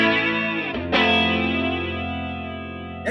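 Electric guitar played through a Strymon Deco tape saturation pedal: a sustained, saturated chord rings out, then a fresh strum hits and slowly decays with a warm, chorus-like smear and no talking.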